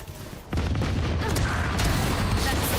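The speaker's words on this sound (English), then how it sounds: "Placing swarm grenade." A swarm grenade goes off in Valorant, a sudden loud burst near the half-second mark followed by sustained rumbling, crackling bursts that keep going to the end.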